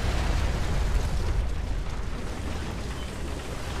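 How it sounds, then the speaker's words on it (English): Flak Panzer shot and destroyed in War Thunder, a heavy rumbling boom that rolls on as a dense roar, strongest at the start and slowly fading. "and I just shoot the Flak Panzer"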